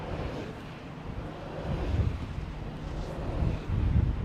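Gusty wind blowing across open backcountry in Brazil's northeastern sertão, a steady roar of buffeting against the microphone that swells louder in surges toward the end, with no voices.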